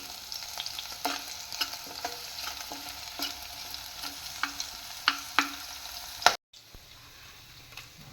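Beetroot chutney ingredients fry in a pan with a soft steady sizzle, punctuated by a series of light scraping stirs, ending with a sharp clack and then near quiet.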